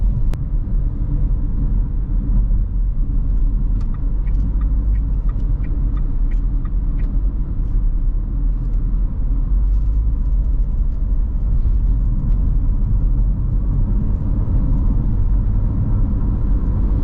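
Renault Duster Iconic with a 1.3 TCe turbo engine driving along, a steady low engine and road rumble filling the cabin throughout with faint light ticks and rattles above it.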